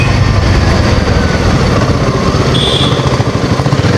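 Royal Enfield Himalayan 450 motorcycle engine running, a steady, loud, close low rumble that holds evenly throughout with no talk.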